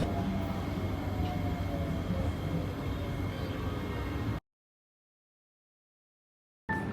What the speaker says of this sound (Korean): 전철 탈 수 있었습니다